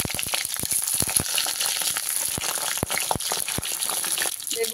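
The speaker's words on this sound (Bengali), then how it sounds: "তাতে দিয়ে দিচ্ছি সরষের তেল। তেলটা গরম হয়ে গেলে দিয়ে দিচ্ছি বেগুনগুলো।" Eggplant slices sizzle and crackle in hot mustard oil in a wok, a loud close frying hiss broken by sharp pops throughout.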